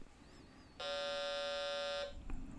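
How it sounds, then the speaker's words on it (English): A single loud, steady electronic startup beep from an Olivetti M300-30 computer holds for just over a second, rich and buzzy, with quiet background before and after. "We get this ominous beep."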